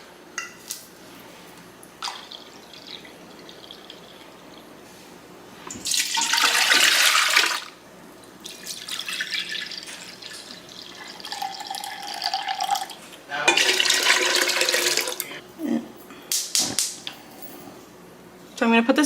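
Tap water runs in several loud bursts while a cooking pot used for grape jelly is washed in a sink, with clinks of the pot and some talking in between.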